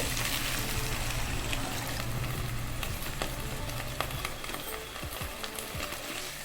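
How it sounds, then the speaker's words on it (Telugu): Steady, loud sizzling and bubbling of water poured onto frying masala and vegetables in a hot pan for aloo kurma, a continuous frying hiss with small pops throughout. "తర్వాత వాటర్ పోసుకోండి."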